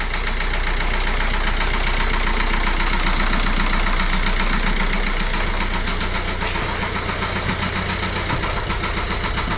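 A Citroën C4 engine, newly restarted, idles loudly and steadily up close, with a constant rumbling hum and rapid mechanical ticking throughout.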